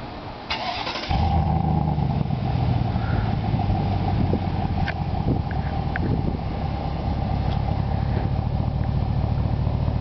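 A 2019 Chevrolet Silverado Z71 fitted with a short turbo muffler cranks and starts, then settles into a steady, fairly loud idle rumble close by for the rest of the clip, with no talk.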